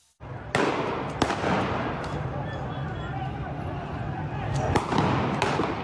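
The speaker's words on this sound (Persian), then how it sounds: "این تصویر و صدای شلیک گلوله پاسخ به شهروندانی را نشان می‌دهد" Gunshots fired at protesters in Isfahan ring out as a few sharp, separate cracks over a dense crowd noise with shouting voices, loud and close.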